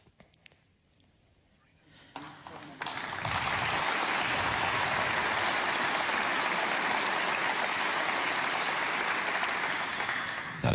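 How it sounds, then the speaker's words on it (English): At the 2018 German Masters snooker tournament, an audience bursts into applause for a player levelling the match. After a hushed couple of seconds, the clapping swells into a loud, sustained, even roar that carries to the end. "That applause for Ding Junhui levelling up against Michael Georgiou"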